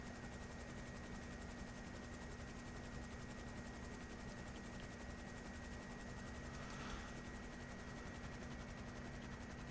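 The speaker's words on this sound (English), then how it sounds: "I tried to really just rip this thing up from wheels down to moving full speed forward, this cargo bob, and I never gained any altitude" Cargobob helicopter in GTA V with a steady, continuous rotor and engine drone, held at an even level throughout with no voices.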